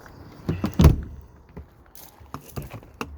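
Thumps and latch clicks come from an exterior storage compartment door on a 2020 Carbon 348 RV, a loud thunk followed by scattered lighter knocks and rattles, near and without speech.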